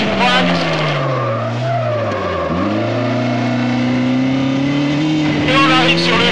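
Car tyres squeal loudly and continuously as the car swings through a gymkhana slalom, the engine note rising and falling between left and right turns, close and intense throughout.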